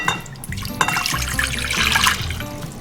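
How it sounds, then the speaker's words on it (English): Warm water is poured into a mixing bowl to start cinnamon roll dough, a continuous close splashing trickle that runs steadily throughout without talk. "The first thing we're going to do is put the warm water in the bowl."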